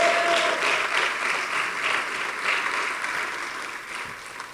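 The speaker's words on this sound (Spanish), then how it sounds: "Démosle fuerte las palmas al bendito Rey, por favor." A church congregation claps loudly and continuously, a dense wash of applause that holds steady and slowly fades slightly toward the end.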